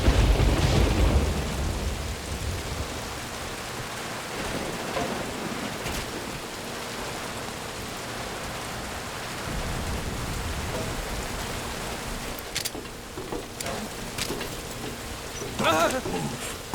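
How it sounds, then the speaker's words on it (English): Steady heavy rain pours throughout a Metal Gear Solid V stealth mission at night, with low thunder rumbling and occasional sharper sounds as it continues. "That rain just won't let up."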